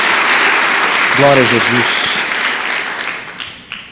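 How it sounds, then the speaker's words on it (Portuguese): Congregation applauding in a church service, a steady wash of clapping throughout with a voice calling out praise over it partway through. "Dá uma salva de palmas ao Senhor."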